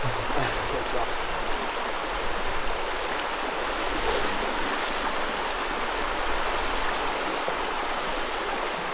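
Steady, loud rush of river water at a crossing on the Laugavegur trek in Iceland, a continuous broadband roar with no break, a voice briefly heard underneath.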